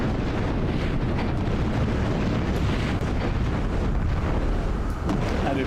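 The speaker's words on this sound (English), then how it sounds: "it's pretty funny that you get all this explosions, all these bullets hailing on you" Combat in the video game Project Nomads gives a loud, unbroken wash of explosions and hailing gunfire. It rumbles on without a break and no voices are heard.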